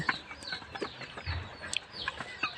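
Several native chickens cluck on and off, some near and some farther away, in an otherwise quiet outdoor setting.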